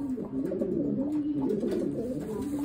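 Low, throaty pigeon cooing repeats in soft rolling phrases, close by and steady throughout.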